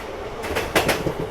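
The 06577 Bengaluru to Vijaypura express train runs along the track in a short burst of rumbling rail noise, with a few louder broadband clacks near the middle and no voices.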